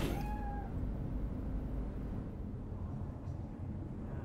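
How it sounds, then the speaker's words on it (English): A single cat meows once near the start inside Cyberpunk 2077, a short rising cry over a constant low rumbling background hum that carries on alone afterward. "I heard a cat."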